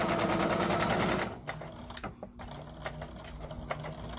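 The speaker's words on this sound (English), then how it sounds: "I'm backstitching. Going around that curve." A sewing machine backstitches around the curved edge of a fabric face mask, starting with a dense close mechanical whirr that stops abruptly, followed by scattered clicks and small handling noises.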